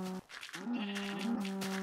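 Cows in a farming video game give low, drawn-out moos, two or three tonal calls in quick succession, fairly faint and heard alone.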